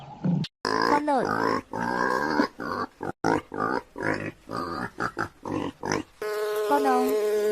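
A pig grunts and snorts in a rapid, loud, close series of rough bursts, ending with a squealing, tonal sound.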